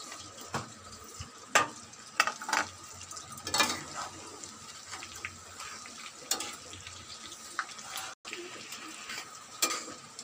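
Chicken pakora frying in hot oil while being stirred, a steady close sizzle broken by scraping stirs and clatters of the utensil against the pan, with no voices.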